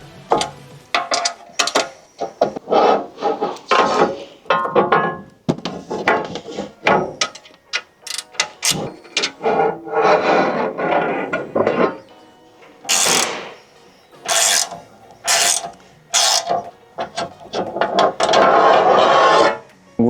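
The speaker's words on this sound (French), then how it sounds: "On laisse un peu la vis, on desserre l'autre." Screws being loosened on the door mounting plate of a Mercedes Sprinter van, heard as close ratcheting clicks and rasping turns in irregular bursts with brief pauses, plus occasional sharp metallic clacks.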